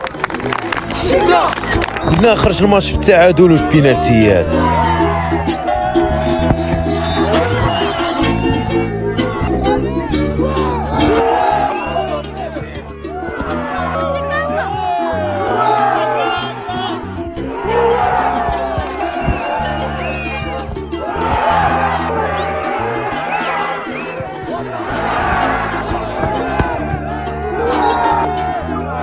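Football crowd at an amateur match, a loud, continuous roar of fans with whoops and scattered clapping rising and falling throughout, someone speaking over the noise.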